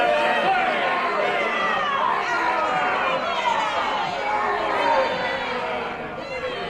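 Hostile crowd in a 1990s English courtroom drama, a dense continuous murmur of many overlapping voices chattering and muttering at steady level throughout.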